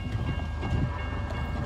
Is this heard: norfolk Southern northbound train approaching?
yes